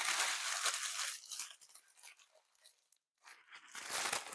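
Parchment paper crumpled into a ball by hand on a kitchen counter beside a cookie sheet, giving loud, dense crinkling and tearing-like crackles that thin out midway, pause briefly, then return in a final burst.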